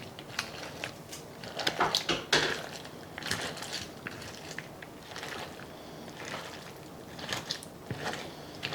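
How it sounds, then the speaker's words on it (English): Tortilla chips crunch as they are stirred into an enchilada casserole with a meat mixture and enchilada sauce, giving a steady run of crisp, crackly scraping bursts at close range, a few louder crunches standing out. "It's good and crunchy. You can hear those tortilla chips"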